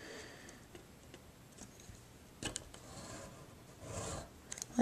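Paper scored along a ruler with a scoring tool on a die-cut card: quiet scratchy strokes, a few soft ticks, then two louder drawn scrapes, all faint and close.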